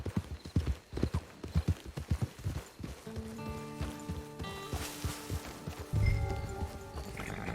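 Horse hooves clip-clop in Red Dead Online, a steady series of close, distinct hoofbeats that then fade under a sustained tonal game sound, with a louder thump near the end.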